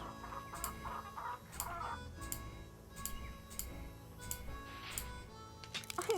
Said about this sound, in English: just gonna go in the chicken coop.